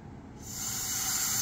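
A steady hiss of air rushing out as a glass resin vacuum chamber is released starts after a brief moment and keeps building, broad and airy, close by with no voices.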